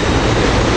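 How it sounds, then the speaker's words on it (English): New Jersey Transit Comet I railcars rolling into 30th Street Station, a steady loud rumble of wheels and heavy running noise filling the whole moment without pause. "Coming into 30th Street Station here, we got railcars"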